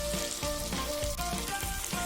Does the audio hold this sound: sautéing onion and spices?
yes